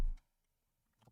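A couple of brief, isolated keyboard clicks, one sharp tap right at the start and a softer one about a second later, with near silence between them.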